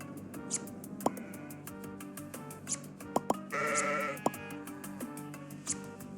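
Sheep in the game Necesse bleat in a string of short calls over a low, steady game ambience, punctuated by a few sharp clicks and a brief louder burst near the middle.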